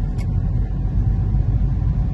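A car pulls away from a standstill on a driving test route, its engine giving a low, steady rumble heard from inside the cabin with no talking.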